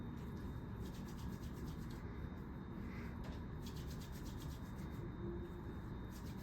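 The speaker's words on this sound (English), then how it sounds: "get a good healthy amount, rub vigorously, and let it completely dry before you put on your gloves" Hands rubbing vigorously with hand sanitizer before putting on gloves, a quiet, continuous dry swishing friction that stays even and steady from start to finish.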